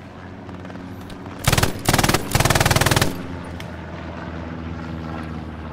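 Video game gunfire comes from the west in three quick automatic bursts, loud and near, each a rapid string of shots, over a steady engine-like hum.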